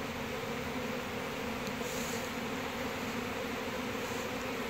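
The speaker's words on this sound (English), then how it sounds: "Just a bunch of pissed off bees!" Agitated honey bees buzz densely and continuously during a hive inspection, a loud close swarm hum with no pauses.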